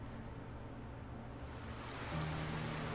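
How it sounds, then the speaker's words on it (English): Heavy rain pours down in sheets at a train platform in a visual novel game, a steady broadband hiss with a low background tone, slightly louder toward the end, with no talking. "fat raindrops still pouring down in sheets"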